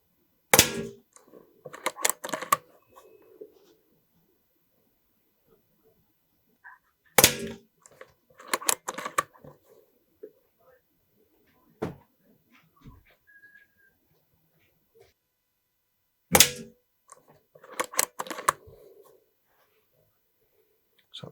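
A Snowpeak P35 bullpup PCP air rifle fires at a target in three separate sharp, close shots spaced several seconds apart. Each shot is followed by clicks and handling noise, and quiet voices can be heard in between.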